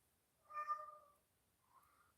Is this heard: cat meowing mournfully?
yes